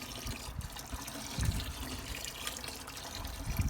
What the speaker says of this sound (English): right now we're going to put some acid in